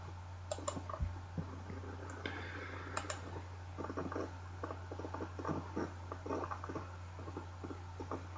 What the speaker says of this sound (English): I know you probably can hear the clicking of my mouse in the background.